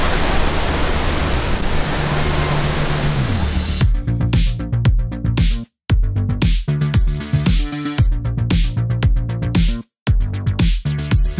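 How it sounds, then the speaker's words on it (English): Large Devil's Waterfall in Baños, Ecuador, heard as steady, loud broadband roar for about four seconds, then cut into choppy, busier sound with rumbling pulses and brief dropouts. "it's not a small waterfall, I'll tell you that."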